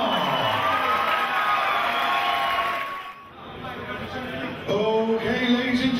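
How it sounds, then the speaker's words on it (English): A large crowd at a UK heavyweight MMA event cheers, whoops and applauds loudly and continuously for both fighters, dipping briefly midway before swelling again, with an announcer's voice carrying over the roar. "applause for both fighters."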